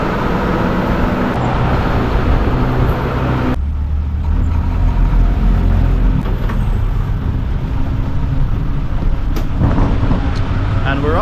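An old city bus in Bangkok pulls off, its heavy engine rumbling close amid dense roadway traffic noise, with a sharp shift in the sound a few seconds in as it gets moving.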